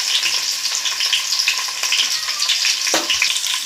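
Slit green chillies sizzling and frying in hot oil with mustard seeds in a pan, a steady dense crackle throughout at close range with occasional sharper pops and stirring scrapes, no voices.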